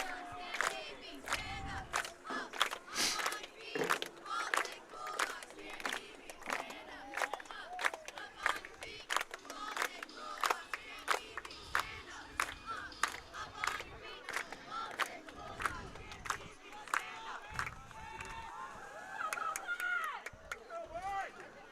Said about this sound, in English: Baltic cheerleaders getting the crowd rolling.